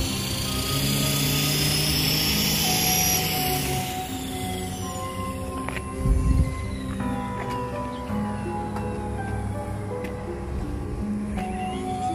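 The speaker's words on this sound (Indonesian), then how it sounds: "di sini banyak yang main pesawat-pesawatan ini" Remote-controlled toy airplanes flying near a forest dam in Tai Wai, Hong Kong: a continuous buzzing motor whine rises and falls as the planes pass, with a brief low thump partway through.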